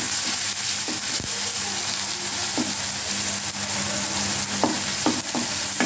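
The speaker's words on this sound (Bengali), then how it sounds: "এবার পেঁয়াজের সাথে আদা রসুন পেস্টগুলো একটু ভেজে নেব।" Ginger garlic paste frying with onions in a pan, a close steady sizzle punctuated by a few sharp spatula scrapes and taps, no voices.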